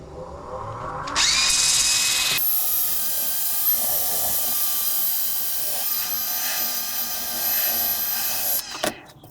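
Power sander working a meranti and resin placemat, a steady high whine that spins up, settles into a continuous buzzing grind with slight variations as it presses, then cuts off near the end.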